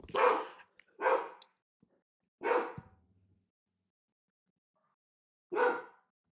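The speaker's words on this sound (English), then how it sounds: "now that the dog stopped barking" A dog barks four times indoors, loud and close, with three sharp barks in quick succession followed by a long pause and one more bark, with silence between.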